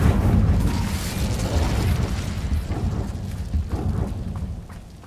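A fiery Incendio spell cast in Hogwarts Legacy bursts out as a loud whooshing blast, then rumbles and crackles on with flickering roar for several seconds, slowly fading.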